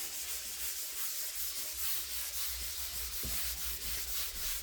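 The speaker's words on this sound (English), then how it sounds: "So we'll sand that, put it to one side" Hand sanding of a painted wooden drawer front, a quiet steady rasping rub in repeated back-and-forth strokes, close and alone.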